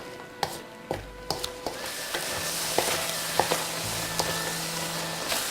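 Sticky rice cake cooking in chicken broth in a pan as the liquid reduces, with a steady sizzle and bubble broken by sharp scraping stirs and clinks of a utensil, close by and with no talk.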